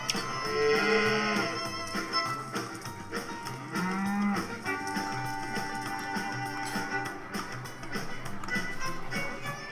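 Cows in the video game Cowmets give several low, drawn-out moos over a busy game soundtrack with tapping and clattering, fairly loud and close, one call after another.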